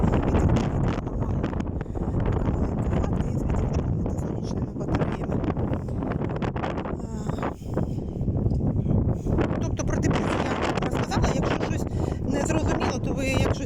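Loud, constant wind buffeting the microphone with rough rumbling gusts throughout.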